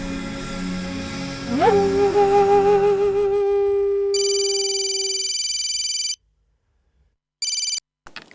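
A telephone call being placed in a Hindi TV drama: a warbling electronic tone rises in pitch and holds, then a steady repeating ringback tone sounds in bursts with short silences between, with no talking.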